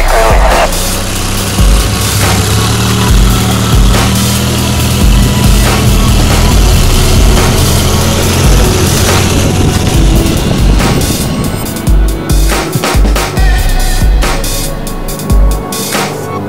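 A Sonex Waiex light aircraft engine drones loudly and steadily during takeoff, close with a buzzing, constant tone and some rattling bumps toward the end.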